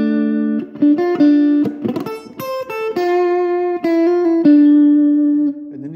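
Clean electric guitar picks an intro riff, a run of distinct plucked notes and short chord stabs ending on a ringing held note, played alone and close.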